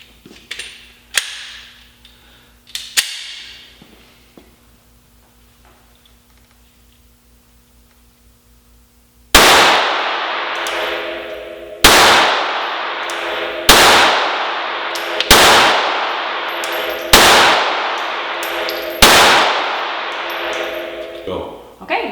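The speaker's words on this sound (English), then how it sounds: "I'm going to be shooting the Glock 42." Glock 42 pistol shots in .380 ACP ring out close and loud, with a series of about eight sharp reports spaced a second or two apart after a quiet start with a few faint clicks.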